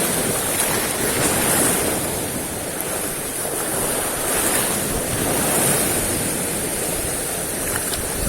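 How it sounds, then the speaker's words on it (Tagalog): Rough ocean surf churns continuously under heavy wind noise buffeting the microphone, a loud, unbroken wash of water and air. "Galit na galit ang alon."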